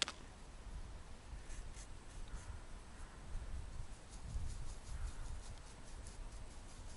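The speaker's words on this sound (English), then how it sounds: "Let's put it on the palette to see what it looks like." A brush spreads phthalo blue paint on a palette, making a soft, faint scraping and swishing close by in a quiet room, with no talk.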